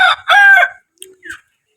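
A rooster crows loudly nearby, followed by a couple of short clucks and then silence.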